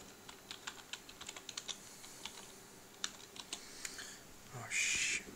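Someone types a password on a computer keyboard: soft, irregular key clicks in small bursts, fairly quiet and close, ending with a brief louder clatter.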